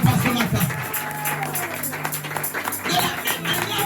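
A church congregation during a French-language worship service claps and cheers together, a dense, steady wash of applause with raised voices and some musical tones running under it throughout.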